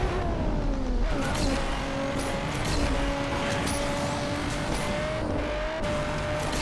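Racing car engine in an arcade street-racing video game, revving hard with rising and falling gear-shift tones, continuous and close throughout, with faint tire squeal and skid noise layered underneath.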